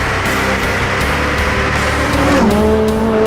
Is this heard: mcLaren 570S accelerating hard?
yes